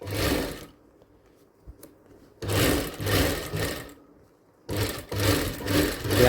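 Sewing machine stitching a designer blouse along marked lines, running in three close, loud bursts separated by near-silent pauses.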